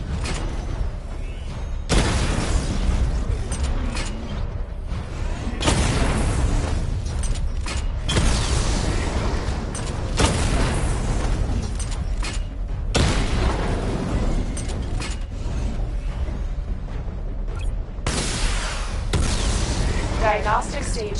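Missile barrage explosions in Batman: Arkham Knight: heavy booming bursts land every few seconds over a constant mechanical rumble, while a voice talks through the sequence.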